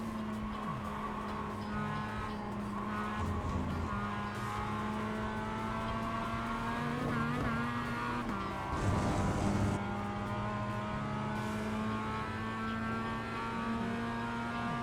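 A Mazda MX-5 Cup race car engine in the iRacing video game drones loud and steady as it revs through gears, with a brief tire squeal partway through, heard alone without talk.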